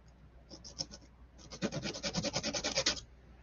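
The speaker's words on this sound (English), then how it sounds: "a little bit of sanding." A wooden model kit is sanded by hand: a few light rubbing strokes, a pause, then a quicker run of rhythmic, scratchy back-and-forth passes, close and clear with no talking.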